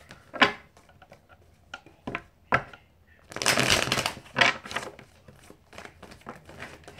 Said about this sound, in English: I'm pulling a card for you